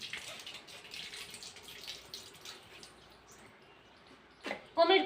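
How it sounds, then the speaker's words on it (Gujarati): Water runs out of an electric water pump motor in a thin, steady, faint splashing stream, with a brief louder clatter near the end. "જો આ નીકળે મસ્ત મજાનું પાણી"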